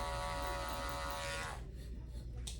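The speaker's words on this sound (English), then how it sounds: "we're going to come back with that same trimmer and use just the corner of it" Electric hair trimmer buzzing steadily up close during a beginner fade haircut, its blade corner working near the skin, then cutting off abruptly after about a second and a half, leaving quiet room noise.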